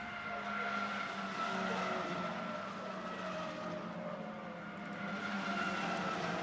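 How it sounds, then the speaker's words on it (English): Ginetta Junior race cars at Snetterton circuit roar past in a steady, sustained engine drone, with several cars' engine notes overlapping loudly and continuously throughout. "the cars work their way through again, heading up towards the line"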